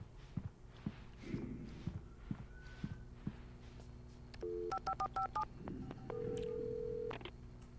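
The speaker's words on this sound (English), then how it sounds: "that phone does not have a dial like that" Telephone keypad tones beep in short bursts as a number is dialed inside the Alan Wake game, preceded by faint footsteps and soft handling noises in a quiet room, with no talking.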